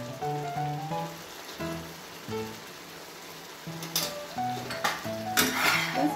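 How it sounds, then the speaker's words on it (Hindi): Chili, salt and spices stirred into a pan for a spicy garlic chutney, with soft scraping and clinks of a spoon against metal under faint background music, and a louder burst of sizzling scrapes near the end. "बस इसे डाल के अच्छे से मिक्स कर दीजिए।"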